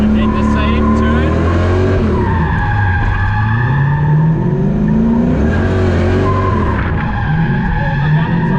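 Car spinning its wheels through a 360 turn after a clutch-kick drag-style launch in a drift, loud engine revving rising and falling over continuous tire squeal, up close.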